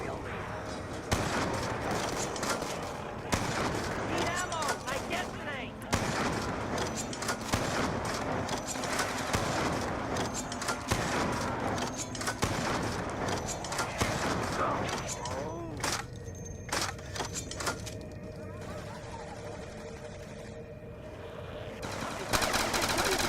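Blundergat shotgun-style weapon firing in Call of Duty zombies, Mob of the Dead map, with dense bursts of game gunfire and chaotic effects running continuously, mixed with speech-like game sounds.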